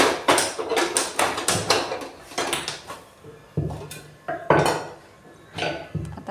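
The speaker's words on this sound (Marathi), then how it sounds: "इकडे मी गॅस पेटवला आहे, कढई ठेवली आहे." A metal kadhai is set down on a lit gas stove in a home kitchen, with a series of loud, close clanks and clatters of cookware and utensils, repeated knocks in an uneven rhythm.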